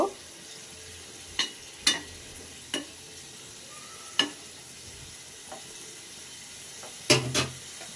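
Hilsa fish kofta curry cooks in a pan on the stove with a low, steady simmer, broken by a handful of sharp, scattered clinks and knocks from spoon or pan.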